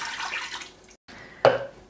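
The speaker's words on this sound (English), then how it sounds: "350 mils of water just to the bottom." About two cups of water pour into the bottom of an Instant Pot Duo Crisp air fryer pressure cooker for a whole roast lemon chicken, a steady splashing stream, a brief pause, then a louder splash.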